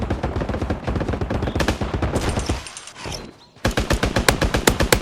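Rapid automatic gunfire from a video game shooter rattles in dense bursts, cuts out briefly, then resumes just as loud and fast.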